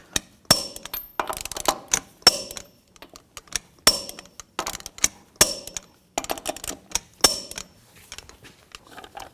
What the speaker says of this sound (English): Now we're going to tighten down the lug nuts to 140 foot-pounds in a cross pattern to tighten the wheel down evenly.